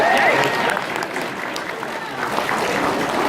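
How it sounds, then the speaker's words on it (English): Applause from a convention audience at the TFNation 2018 opening show, a steady patter of clapping spread across the room, moderately loud, with a voice talking over it. "A round of applause for yourselves,"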